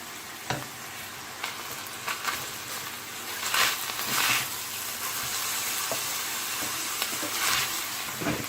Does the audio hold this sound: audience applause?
no